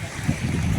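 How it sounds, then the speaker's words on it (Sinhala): Floodwater flowing across a flooded paddy field, heard as a close, steady rushing wash that fills the short moment. "මේ වතුර පාර"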